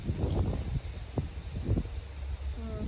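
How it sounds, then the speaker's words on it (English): Gusts of wind rush across an outdoor vegetable garden bed, a steady low buffeting roar that swells and dips over a few seconds, with faint rustling and a brief distant tone near the end. "we are getting some wind gust through here"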